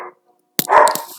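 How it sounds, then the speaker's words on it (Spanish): Dogs out in a yard give a single loud, sharp bark after a brief hush, close by and clear against otherwise quiet surroundings. "Ahí escuchan mis perros que están en el patio."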